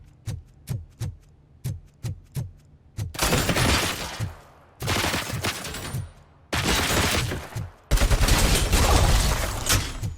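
Robot UED units in RoboCop: Rogue City fire guns, first as a string of sharp separate single shots, then as long, loud, dense bursts of automatic fire broken by short gaps.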